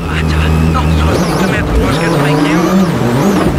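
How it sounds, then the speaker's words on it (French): A Subaru rally car powering out of an icy hairpin at the Monte-Carlo Rally, its engine note rising and falling loudly and continuously under a commentator's voice. "la Subaru ici, qui n'a aucun mal à s'extraire de la même épingle verglacée"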